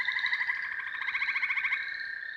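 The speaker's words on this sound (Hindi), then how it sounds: "बारिश का मौसम ना है तो भी मेंढक टर्रावे हैं।" Frogs croak in a rapid, pulsing trill, evenly rhythmic and moderately close, outdoors in a village setting outside the rainy season, heard alone against quiet surroundings.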